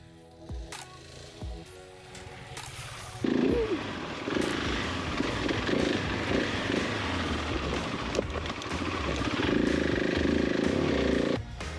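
A GasGas ES700 motorcycle rides twisty enduro single trail, its engine buzzing and revving near and loud in a continuous drone after a few sharp knocks at the start.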